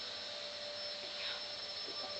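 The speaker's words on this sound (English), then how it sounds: "Mom's just hoovering downstairs." A vacuum cleaner hoovers downstairs in a house, a steady muffled whine that carries through from another room without a break.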